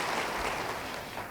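Church congregation applauding steadily as a continuous broadband wash, fairly loud and even throughout, with no talk over it.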